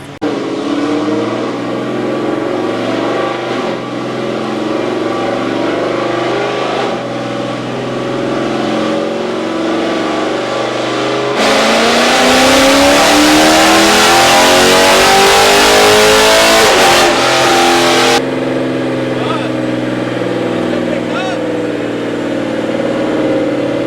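Dodge Scat Pack fitted with a JLT cold air intake on a dyno, its engine idling then revving hard through a full pull, with a loud, steadily rising roar peaking midway before dropping back to a rumble.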